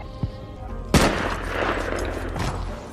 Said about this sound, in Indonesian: Ia pun membalaskan kematian Kapten Miller dengan menembak pasukan Jerman